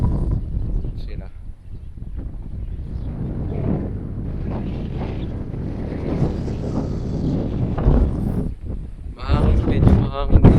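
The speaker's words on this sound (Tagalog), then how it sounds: "Mahangin, medyo mahangin dito." Gusty wind on Mt. Nambersian, Aguilar, Pangasinan, rumbles and buffets the microphone throughout, while people talk nearby over the blustery noise.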